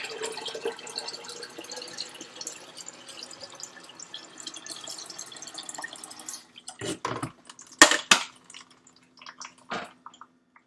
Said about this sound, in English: So I'm putting some of the water on, and then half of it.